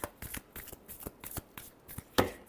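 Tarot cards being shuffled by hand in a series of quick, crisp riffles and taps, close up and alone, with no talk, ending in one louder final shuffle.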